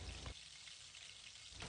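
Chapli kebabs fry in a pan of hot oil, giving a steady dense sizzle with crackling splatter that swells briefly at the start and end.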